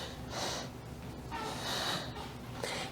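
Soft, steady breaths drawn in and pushed out slowly during a plank core exercise, faint and close, with a quiet airy hiss on each inhale and exhale and no talking.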